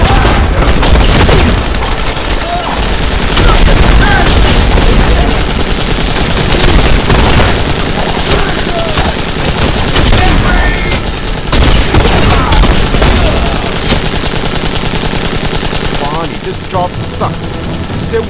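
Sustained machine gun fire and fusillades in The Expendables 2 video game, loud and nearly continuous with booms and explosions mixed in, under a dense battle soundscape.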